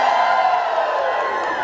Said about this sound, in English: We're gonna scream and cheer just like this.